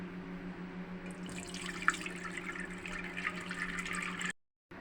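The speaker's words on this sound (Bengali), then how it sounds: "এর মধ্যে এখন দুধটা ঢেলে দেব।" Cow's milk pours from a container into a pan on a stovetop, a steady liquid splashing and trickling that rises after the first second, close and moderately loud, ending abruptly near the end.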